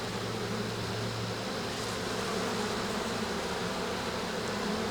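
Honey bees buzz on a hive frame crowded with swarm queen cells, a soft, steady, continuous hum with no talking.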